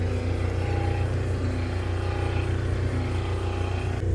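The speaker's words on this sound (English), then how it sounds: "All right, so we know the motor's working." Electric awning motor running aboard a Tiara 34 twin-engine boat, a steady continuous motor hum and whine holding level throughout, close up and alone with no talking.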